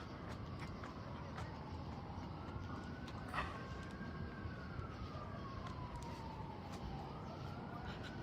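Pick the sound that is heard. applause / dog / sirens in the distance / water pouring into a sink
sirens in the distance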